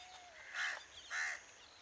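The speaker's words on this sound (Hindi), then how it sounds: "ये तोता है।" A parrot, apparently an escaped pet perched outdoors, gives two short, harsh calls about half a second apart, moderately close against quiet background noise.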